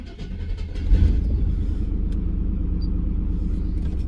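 A Chevy GMT400 OBS pickup truck engine fires up and settles into a deep, steady rumbling idle that runs slightly rough, close and loud throughout, with no talking.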